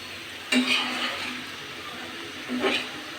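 Cooking goes on over two stoves, with cauliflower among the dishes. A low, steady sizzle runs throughout, broken by two sharp metallic stirring scrapes about two seconds apart.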